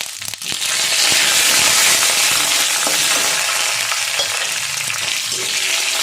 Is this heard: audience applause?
no